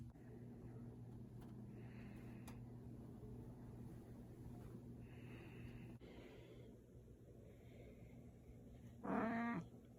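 A large house cat meows faintly several times indoors over a steady electrical hum, then lets out one louder, closer meow near the end.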